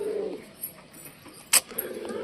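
Pet pigeons coo softly in a low, murmuring burst near the start, followed by scattered faint clatter and one sharp bright click partway through, with no talking.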